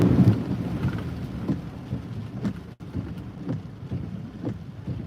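Heavy rain and thunder along I-95 north of Boston, heard from inside a vehicle as a steady low rumbling roar with washing rain noise and wind buffeting, no talking.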